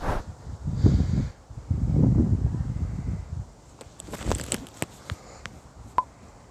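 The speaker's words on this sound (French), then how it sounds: "Je ne sais pas si vous entendez, il y a du vent" Gusts of wind buffet the microphone in low rumbling bursts, followed by faint rustling and a few sharp clicks and taps.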